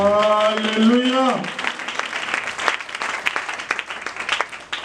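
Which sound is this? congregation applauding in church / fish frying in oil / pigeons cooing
congregation applauding in church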